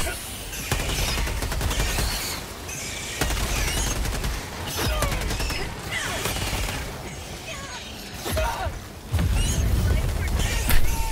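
Turret gunfire in Helldivers 2, loud sustained automatic bursts from nearby with short breaks between volleys, set among explosions and chaotic combat effects.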